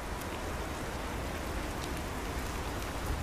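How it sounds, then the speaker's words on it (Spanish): Raindrops falling on a metal sheet, a steady dense patter of rain with scattered sharper drop ticks, fairly quiet and continuous, with no voices. "el sonido de las gotas de lluvia que caen sobre una lámina metálica"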